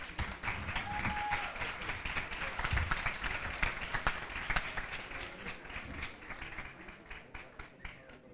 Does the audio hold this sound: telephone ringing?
no